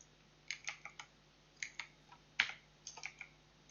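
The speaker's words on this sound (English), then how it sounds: "What is wrong with my keyboard inside that?" Bursts of typing on a computer keyboard, close and fairly quiet, with irregular clusters of key clicks and one sharper clack, no speech.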